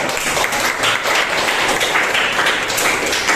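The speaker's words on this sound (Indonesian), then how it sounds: "Kasih tepuk tangan terbaik semua." Classroom students applauding together, a loud, dense burst of clapping that fills the whole stretch without letup and with no talk over it.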